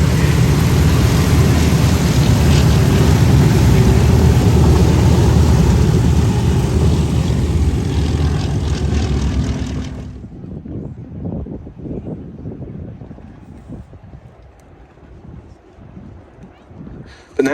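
Gloster Gladiator I biplane fighter, the RAF's last new biplane fighter, rolling at an airshow: a loud, steady radial-engine roar fills the first ten seconds, then fades to a distant rumble and quieter crowd and wind noise.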